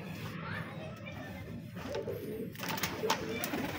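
Pet pigeons cooing softly while coming to feed, low repeated coos with rustling and some background voices over a few seconds.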